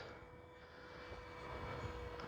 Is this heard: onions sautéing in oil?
no